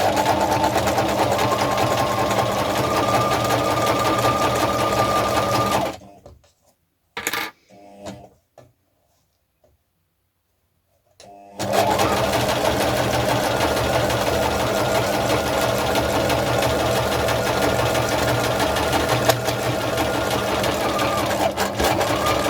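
Domestic sewing machine stitching along the top of fabric pieces for a spring/Easter project, running in a steady loud whir that stops for a few seconds of near silence with small clicks, then resumes just as steadily.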